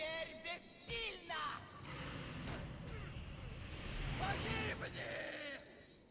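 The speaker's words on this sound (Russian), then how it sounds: "Нихуя себе взрыв." A big explosion in an online video game raid booms under a continuous wash of game noise and effects, with players talking over voice chat throughout.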